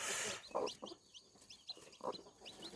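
A hen guarding her chick clucks in short, repeated bursts close by, with brief pauses between the calls and faint chirping in the background.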